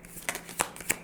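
Tarot cards are shuffled in three quick riffling bursts, close and soft in a quiet room.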